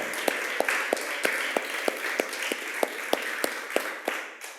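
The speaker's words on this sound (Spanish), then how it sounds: "denle un aplauso al Señor" Congregation applause at an evangelical church service, a steady wash of clapping hands with a few sharper, regularly spaced claps standing out on top, moderately loud throughout.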